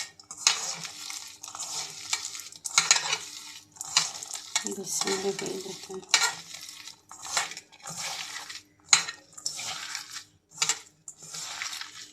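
Chopped onion, green chili, salt and turmeric squished and mixed by hand in a bowl, a series of wet crunchy squelching bursts in an irregular rhythm, close up with no talking.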